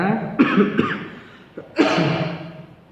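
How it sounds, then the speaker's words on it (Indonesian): Several harsh coughs, a couple close together, then a brief pause and another strong cough, near and loud. "maaf Bapak sedikit batuk ya."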